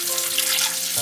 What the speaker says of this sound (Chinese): 先将干香菇洗净